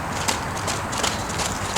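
A horse's hooves clip-clop in a steady walking rhythm as it is moved around in a circle during groundwork, close and moderately loud over faint background noise.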